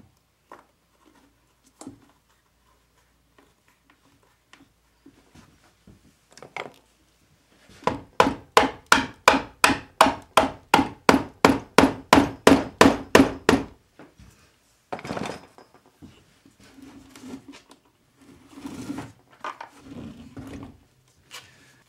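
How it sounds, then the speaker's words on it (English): Bolts being installed to mount a safe to an RV floor: a rapid run of about twenty sharp, evenly spaced mechanical bursts, loud and close, with scattered knocks and clunks before and after. "Now with the 4 holes drilled, all we need to do is install the bolts."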